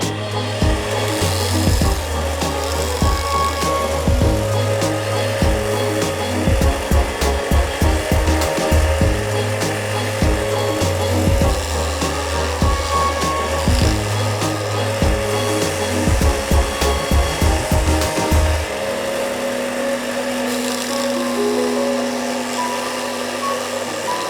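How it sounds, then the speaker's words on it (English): A belt grinder grinds a small forged miniature hammer head held in a clamp. The rough, steady abrasive whine runs loud and close, with rhythmic surges as the piece is pressed on, then eases near the end. "it's safer to use this clamp to grind it on our belt grinder"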